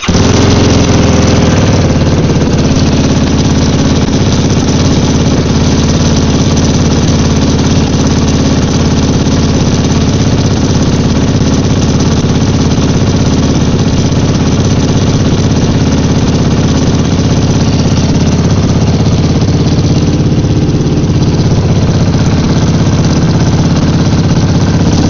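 A sport quad ATV engine running right after a fresh first start, with a loud, close, continuous rough idle and a knocking vibration that holds steady with no talk over it.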